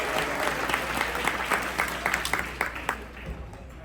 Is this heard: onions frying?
no